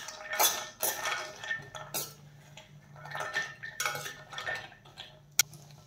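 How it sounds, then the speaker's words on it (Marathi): Cashews are stirred and roasted in ghee in a kadhai with intermittent metallic scrapes and clinks of a spatula against the pan, soft and close, ending in one sharp tap. "तर आता आपण काजू छान सोनेरी रंग येईपर्यंत परतून घेऊयात।"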